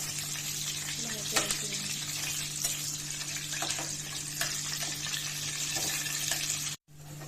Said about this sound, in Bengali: এবার তেল গরম হয়ে গেলে আলু দিয়ে দেব। আলুটা একটু ভাজা ভাজা করে নেব।